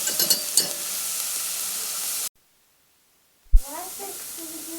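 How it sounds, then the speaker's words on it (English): Vegetables for cream of celery soup sauté in a pan over medium heat, giving a steady close sizzle with a few stirring scrapes, cut by a silent gap and then resuming. "saute these vegetables a little bit. I'm on a medium heat here."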